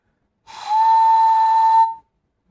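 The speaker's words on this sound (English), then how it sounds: "That's the amber one here I'm trying to make a whistle out of." Air blown across the mouth of an amber glass bottle makes a steady, loud, pure whistle tone that holds for about a second and a half and then stops, close and alone.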